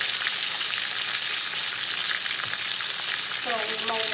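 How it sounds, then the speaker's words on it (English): Fish frying in a pan gives a dense, steady sizzle up close, with a brief faint tonal squeak near the end. "The fish is frying here."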